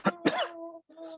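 Two short sharp coughs followed by a rasping throat clearing come from a person during yoga breathing practice, close and alone.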